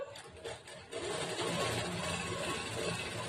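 Sewing machine stitching blouse fabric nearby, a few short starts giving way to a fast, continuous whirring run of stitches.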